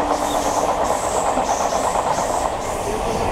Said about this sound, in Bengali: ট্রেন চালু হয়ে গেছে।